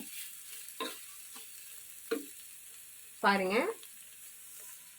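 Grated carrots cook in sugar for Ashoka sweet, a faint sizzle broken by a few scraping stirs, with a short spoken word partway through.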